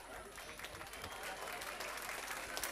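Audience at a kids' school annual day applauding young children on stage, with dense, steady clapping filling the hall and some crowd voices mixed in.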